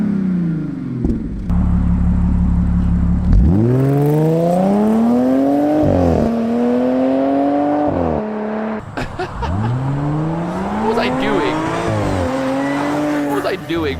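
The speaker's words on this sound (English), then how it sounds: "Got the new MagnaFlow put on the Audi A7 here" An Audi A7 fitted with a MagnaFlow exhaust revs hard several times in a row, each loud rising engine whine climbing then dropping back, close and dominant throughout.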